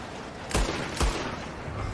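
Two sharp gunshots about half a second apart ring out over a steady background bed during a train heist in the video game Red Dead Redemption 2.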